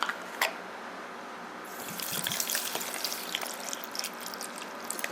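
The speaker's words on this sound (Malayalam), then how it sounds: "ഇനി നമുക്ക് ഇതിനകത്തോട്ട് ആവശ്യത്തിന് വെള്ളം കൂടെ ഒഴിക്കണം." About a cup of water is poured into a ripe mango juice mixture sweetened with sugar, a steady hissing trickle that starts partway through and continues close by, with no talk.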